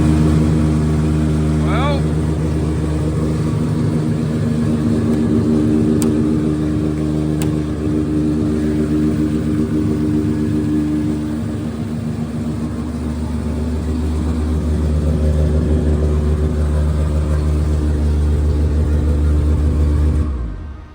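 An RB engine in a car about to have its engine swapped idles and revs steadily with a deep, sustained rumble, then falls silent at the end.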